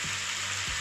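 Food sizzling and frying in a non-stick pan while being stirred and folded, a steady close hiss with a couple of brief low scraping strokes from the utensil.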